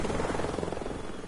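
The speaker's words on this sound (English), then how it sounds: "it's a helicopter." Helicopter in a video game, a steady rotor drone at moderate level filling the short stretch, with no talk over it.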